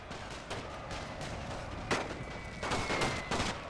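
Howitzers pound away in a WW1 siege battle in The Great War: Total War mod, a dense, continuous rumble of distant gunfire broken by several louder blasts, with no voices over it.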